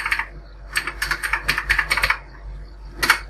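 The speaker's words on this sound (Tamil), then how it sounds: "கீழே வந்து மொபைல் நம்பர் டைப் பண்ணிக்கலாம்." Bursts of keystrokes on a computer keyboard as a mobile number is entered for a bulk SMS message, a short cluster of close, crisp clicks in uneven rhythm, then a brief pause and one last tap.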